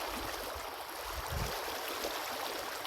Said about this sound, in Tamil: நல்லா ஒரு வேகமாக தண்ணி வந்து வந்துட்டுருக்கு